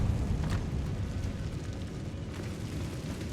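A Confringo fire spell in Hogwarts Legacy blasts out as a loud, rumbling roar of fiery explosion noise, dense and sustained throughout.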